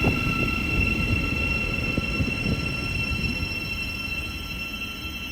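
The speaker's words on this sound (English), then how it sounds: "you can see that Great Northern 717 passing overhead" Great Northern Class 717 electric train passing overhead in the distance at Welwyn Garden City on the East Coast Main Line, a steady low rumble with faint whining tones, fairly loud and continuous, no talk.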